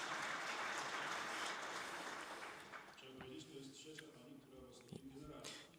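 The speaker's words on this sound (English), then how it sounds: "so now you can give an applause" Audience applause at a Polish police academy's academic year inauguration ceremony, a dense sustained wash of clapping that thins out over several seconds into scattered claps and room noise.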